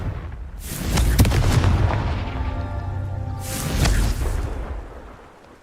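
A Confringo blasting spell fired in Hogwarts Legacy, two loud booming explosive bursts a couple of seconds apart, each with a rumbling, crackling tail, close and with no talking.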